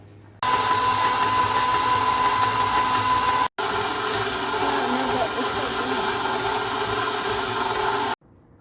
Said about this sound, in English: Beat the 5 egg yolks with 3/4 cup sugar at medium speed until they're pale and creamy.